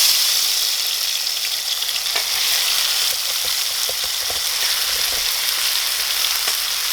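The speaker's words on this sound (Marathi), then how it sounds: "कढईमध्ये मसाला आपण टाकलेला आहे." A masala of onion, ginger, garlic, coriander and tomato fries in a kadhai with a steady, close sizzle and faint crackles throughout. No voices are heard.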